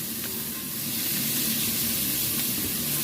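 Chilli, ginger and garlic sizzling in a hot pan while being stirred for a spicy chicken xacuti curry, a steady close frying hiss with faint scrapes, no talking.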